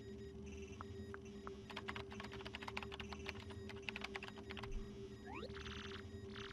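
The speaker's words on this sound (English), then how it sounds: "Use the keyboard to send whatever message you want." Rapid, clicky keystrokes come in irregular bursts, close and clear, for typing on a keyboard in the video game Paper Mario: The Thousand-Year Door, with faint electronic chirps and a low steady hum underneath.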